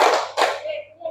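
A school class clapping hands twice in unison, two broad, close claps in quick succession with a voice faintly after.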